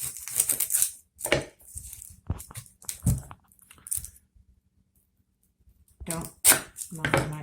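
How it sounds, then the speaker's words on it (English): A knife topping and tailing an onion on a cutting board, a few sharp close chops scattered among pauses, with someone talking over parts of it. "Top and tail the onion, and that goes in the stock pot."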